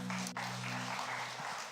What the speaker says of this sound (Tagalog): Sige po, yung palakpak po para sa ating Panginoon.